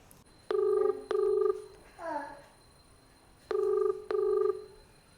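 A phone rings back on an outgoing call in two pairs of clear electronic double tones, with a short voice sound between the pairs over a quiet background.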